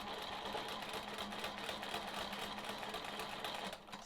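A sewing machine quilts a sawtooth star quilt block with a ruler, running as a steady, continuous mechanical whir with a fine rapid stitching rhythm throughout, slowing briefly near the end.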